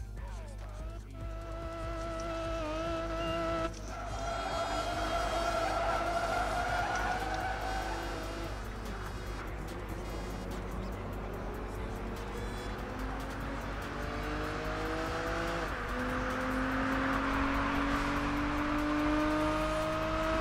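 An Aston Martin in Project Gotham Racing 4 races with a loud, steady engine drone, its revs climbing and dropping through gear changes, with a brief tire squeal as it goes. A voice talks over it now and then.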